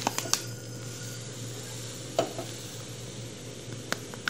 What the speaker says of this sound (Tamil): வெறும் வானில் ரவாவை வறுக்கணும்.